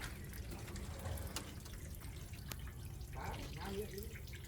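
Water is sprayed to rinse something clean, producing a steady hiss with occasional drips and splashes, while people talk over it.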